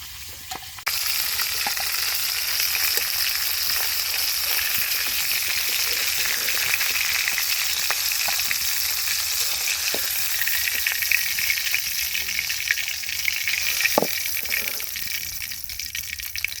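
Fish fries in hot oil with a loud, continuous sizzle and bubbling that starts abruptly and holds steady, with occasional small pops and a utensil tap, no one speaking.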